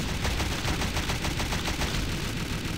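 Rapid, continuous automatic gunfire from the zombie shooter game SAS: Zombie Assault 4 rattles loudly and evenly throughout, with no talking.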